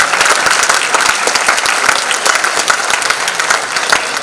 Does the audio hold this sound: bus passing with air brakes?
no